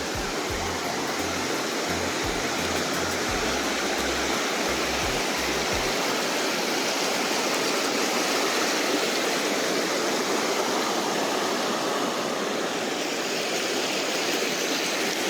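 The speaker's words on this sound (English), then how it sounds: "right on the creek." A creek flowing beside a campsite on Grand Mesa National Forest, a broad steady rush of moving water, continuous and close, with some low rumbling wind early on and no voices.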